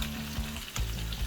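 Cabbage stir frying in a pan, a dense sizzle with a low background hum and a couple of quick stirring knocks.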